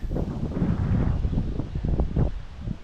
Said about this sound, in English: Whoa, it's breezy today.